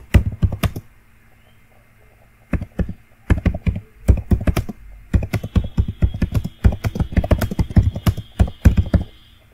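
Rapid typing on a computer keyboard while writing text in the nano editor on Linux: close, crisp clatter in irregular bursts, with a pause of about two seconds early on.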